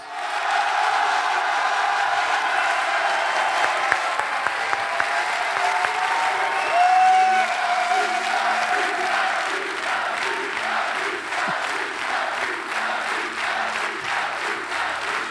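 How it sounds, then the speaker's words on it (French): A live audience at a tabletop role-playing show applauds loudly and steadily, a dense wash of clapping with scattered cheers that carries on for the full stretch, with a brief whistle or shout rising midway. "J'aimerais un tonnerre d'applaudissements pour Dieu, Lacus"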